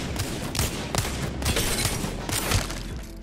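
Wingman pistol shots fired at target dummies in the Apex Legends firing range, a steady series of loud, evenly spaced reports with ringing tails, about two shots per second, without talk.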